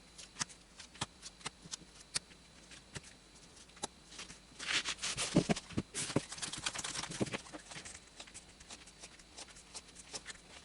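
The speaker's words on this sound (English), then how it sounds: "let's go ahead and shuffle the cards and lay them out," Oracle cards are shuffled by hand, a series of crisp flicks and taps building to a longer riffling burst, then more light tapping.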